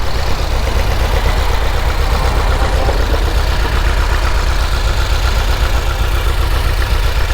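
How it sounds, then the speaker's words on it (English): A loud VW bus engine idles steadily, a constant low rumble with a rattling throb that fills the whole stretch without pause. "This VW bus, super loud."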